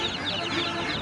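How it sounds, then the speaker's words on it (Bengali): Chickens, including Tiger and Gachhi breeds, cluck at a busy animal and bird market in Hemayetpur, Dhaka, in a brief burst against a noisy crowd background. "টাইগার মুরগি, গাছি মুরগি।"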